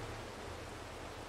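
Rain falling steadily in the farming video game Farming Simulator, a constant soft hiss with no breaks, fairly quiet, with a low hum underneath.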